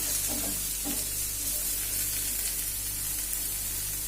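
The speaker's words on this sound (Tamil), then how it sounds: "வெங்காயம் வதக்கட்டும்." Onions, green chillies and curry leaves saute in a pan, giving a continuous crackling sizzle with a few stirring scrapes near the start, steady and close with no speech.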